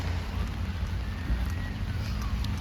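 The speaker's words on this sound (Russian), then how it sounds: "И дождик все сильнее и сильнее пошел" Steady October rain in Ukhta, Komi Republic, with a low rumbling undertone, continuous and fairly loud, no voices.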